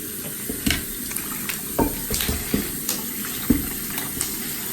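Hot water runs from a tap in a steady, soft stream, with a few light clinks and splashes over it.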